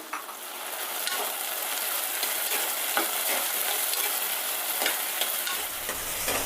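Hyacinth beans (avarekalu) and rice fry in a pan for avarekalu rice bath, giving a steady, dense sizzle with soft scraping strokes from stirring throughout.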